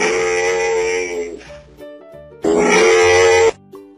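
A camel grunts and groans in two loud, drawn-out bursts, each lasting about a second, over a light background music track.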